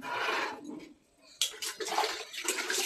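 Water is poured over a child's head during a bath, splashing in bursts with a short quiet pause between pours. The sound is close and moderately loud, with no talk over it.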